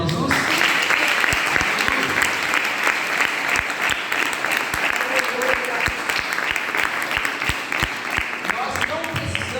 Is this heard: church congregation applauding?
yes